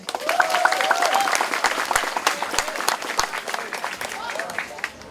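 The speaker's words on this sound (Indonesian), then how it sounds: "Ya, tepuk tangan." At an education-district declaration ceremony at a school, a crowd claps steadily and densely for several seconds while a voice speaks over the applause.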